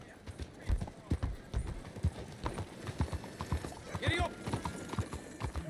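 A horse galloping in the Red Dead Redemption 2 video game, quick rhythmic hoof clip-clops close by, with a snort or whinny midway and some voices mixed in.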